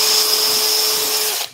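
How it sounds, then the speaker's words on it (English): A power drill boring a hole down through a wooden template glued with Copydex for a scroll-saw shelf bracket, a loud, steady high whine that runs briefly and then cuts off. "So just drilling a hole down through our template here."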